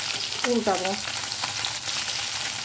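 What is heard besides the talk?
kajli fish frying in hot oil in a wok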